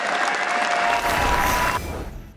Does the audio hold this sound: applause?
yes